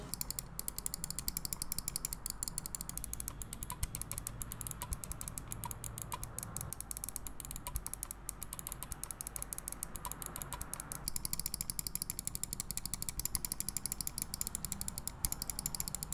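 Rapid, faint clicking from a Logitech G Pro Wireless gaming mouse, a steady stream of light mechanical clicks close up with no voices.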